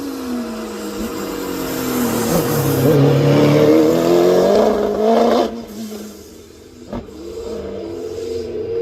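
A hillclimb race car with a Suzuki Hayabusa 1300cc engine screams as it accelerates hard, its rising tone loud and close before fading as it passes away, followed by a short sharp blip.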